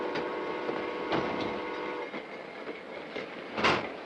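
A 1950s passenger train rolls along the rails, a steady rumbling ride with faint rhythmic clacks and creaks from the car, heard from inside and without any talking.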